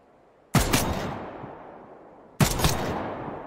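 Two loud, close gunshots from the Passed Out Prologue alpha, a couple of seconds apart, each a sharp crack followed by a long fading echo, with no talking.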